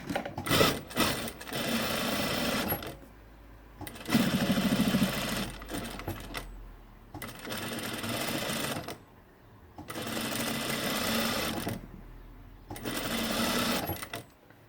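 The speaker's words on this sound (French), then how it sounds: "on plie et on pique à 2 cm du bord du biais" Sewing machine stitching bias binding on a fabric face mask: fast, rattling bursts of stitching a few seconds long, separated by short pauses, close and fairly loud.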